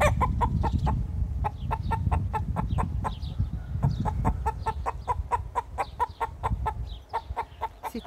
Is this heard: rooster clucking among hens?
yes